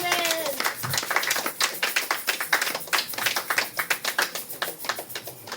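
A Sunday church congregation claps loudly in a fast, steady rhythm, many hands together, with voices rising over the clapping.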